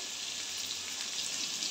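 Potatoes frying in a pan make a steady, even sizzle at close range, a continuous hiss with no breaks.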